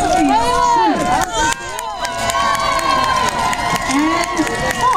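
Large outdoor parade crowd at the Cherry Blossom Parade in Washington DC cheering and shouting loudly throughout, with voices of adults and children mixed in the sustained roar.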